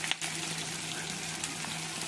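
Julienned onions fry in oil in a pan, a faint, steady soft sizzle with a small clatter at the start.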